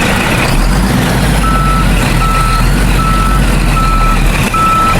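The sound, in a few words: truck reversing beeps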